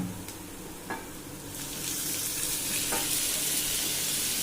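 Tomatoes hitting hot oil with dried fish in a pan set up a steady, close sizzle that swells louder and brighter after a couple of seconds, with a few soft stirring clicks along the way.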